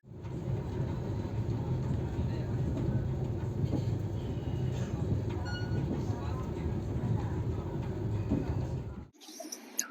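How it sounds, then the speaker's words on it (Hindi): Interior of a moving passenger train running from Delhi to Mathura, with a steady low rumble and rolling rail noise that holds evenly before cutting off abruptly near the end. "सो ट्रेन स्पीड तो काफ़ी अच्छी मेंटेन कर रही है।"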